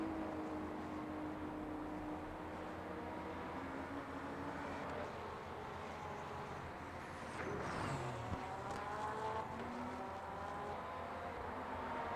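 A BMW M4 LMGT3 race car laps Sebring in a racing video game, its engine a continuous, fairly quiet drone whose pitch climbs and falls through gear changes, with one sharp shift partway through.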